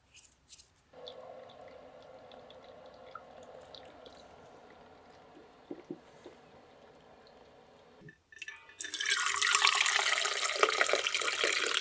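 Water from a tap runs steadily at a moderate level while a fresh pot of coffee is made, then cuts off briefly before a louder, brighter gush of water starts and keeps going, with no talking.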